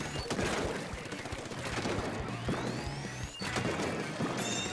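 Rapid clusters of sharp charged shots from the E-liter in Splatoon crack out repeatedly amid busy, crashing game effects, with occasional rising tones between bursts.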